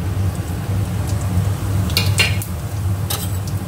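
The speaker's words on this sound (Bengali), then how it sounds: "এবার এই গোটা গরম মশলাটা ফোড়ন দেব।" Whole spices such as cardamom, cloves, cinnamon, bay leaf and dried chilli crackle as they are tossed into hot mustard oil in a wok, with a steady low hiss, a few sharp scrapes and clinks of a spatula, and no talk.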